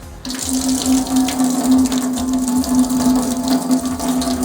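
Water from an unblocked drain runs freely and steadily, a continuous close rushing flow like a running tap filling and draining a sink, heard alone without talk.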